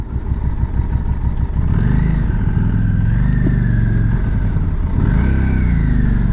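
A 2018 Harley-Davidson Street 500 motorcycle engine on a road ride, loud and close, rumbling steadily, rising in pitch through the gears with a brief dip and another surge near the end, no talking.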